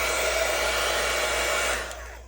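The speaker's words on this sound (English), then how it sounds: "I'm going to turn the sound off on this so you don't have to listen to this blow dryer" A blow dryer runs continuously at close range with a steady, loud rushing whoosh while drying a junk journal page, then tapers off near the end.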